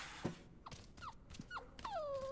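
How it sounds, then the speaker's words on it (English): A fox in the video game One Last Breath gives a few short, faint whimpers and yips spaced out over two seconds, ending in a longer rising whine. "I hear a little foxy boy."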